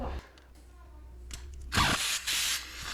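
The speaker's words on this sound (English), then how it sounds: "My little air ratchet is fighting it, but the spark plug gives in." An air ratchet on a Porsche 911 (991) works against a fused spark plug, giving short bursts of pneumatic buzzing, one at the start and two close bursts near the end, with a quieter pause between.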